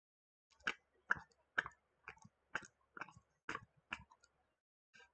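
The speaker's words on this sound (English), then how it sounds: "that's the sound of a clock" Ticking from a clock in the video game Facade: sparse, evenly spaced sharp clicks, about one every half second, quiet and close in an otherwise silent room.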